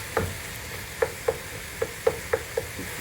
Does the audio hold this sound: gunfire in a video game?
no